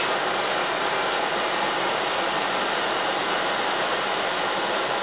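A blowtorch heating a seized nut on an F150 truck, heard as a constant loud roaring hiss that runs unbroken and steady throughout, with no voices.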